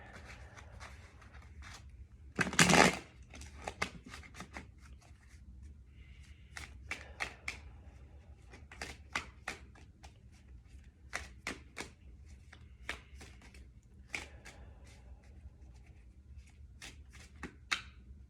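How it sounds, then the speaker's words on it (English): Tarot cards being shuffled in quick riffling bursts, with one loud clattering flurry early on, then lighter intermittent flicks continuing throughout. "just gonna shuffle a little bit more"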